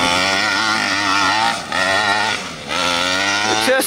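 A 49cc gas engine in a Primal RC Raminator monster truck revs loud and raspy up close, holding a high buzzing pitch with two brief dips as the throttle eases off.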